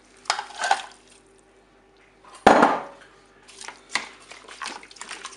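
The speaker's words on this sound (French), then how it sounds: "je vais rajouter les tomates" Tomatoes tipped into a Cookeo multicooker pot: a soft scrape and splat, then a sharp wet thud as the bulk drops in, followed by lighter stirring clinks and rustles, close and without talk.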